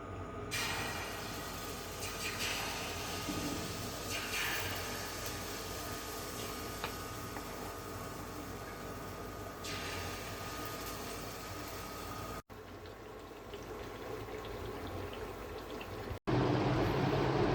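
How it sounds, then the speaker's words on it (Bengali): Mango fritters frying in hot oil give a soft, steady sizzling hiss that runs throughout, fairly faint, with a couple of brief breaks near the end. "এখন বড়াগুলো ভাজবো।"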